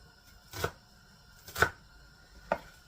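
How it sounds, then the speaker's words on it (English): Knife dicing a red onion on a cutting board, three separate sharp chops spaced about a second apart, close and fairly quiet against a near-silent background. "So we're going to dice this kind of small."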